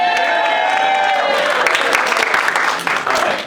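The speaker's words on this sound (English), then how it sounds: "thanks for clapping" An audience claps for a standup comedian at a coffeehouse entertainment night, a short, close burst of applause that carries through the clip.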